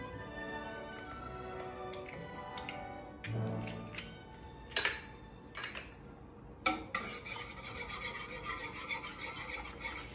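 A whisk scrapes and clinks against a pot as egg is beaten into frothing milk with espresso, unsweetened cocoa and sugar for pudding, irregular metallic rubbing strokes with a few sharper taps, close and fairly quiet, no voices.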